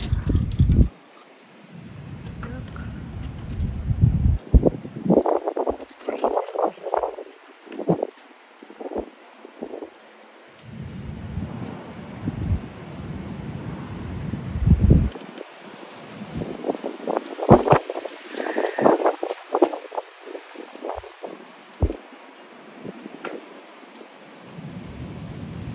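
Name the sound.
strong wind outdoors on a windy day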